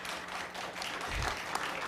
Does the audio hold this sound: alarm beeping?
no